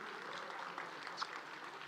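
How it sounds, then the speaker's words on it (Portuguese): Faint, steady applause from an audience at a talk, a soft continuous patter of clapping lasting throughout without voices standing out. "Então uma salva de palmas para você que ficou até agora"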